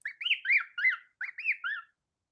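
A pet parrot sings a quick string of whistled, warbling chirps in two short phrases, close and clear against silence, with no talking.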